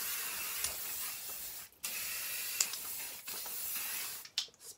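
An aerosol can sprays in long, steady hissing bursts, loud and close, broken by short pauses and a few faint clicks, with no talking.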